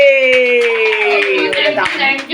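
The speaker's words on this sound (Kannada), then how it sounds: "ನೀತುಶ್ರೀ ಅವರಿಗೆ ದೊಡ್ಡ ಚಪ್ಪಾಳೆಯೊಂದಿಗೆ." An audience claps in a warm round of applause for a guest at a family celebration, the clapping running steadily under a loud, sustained voice throughout.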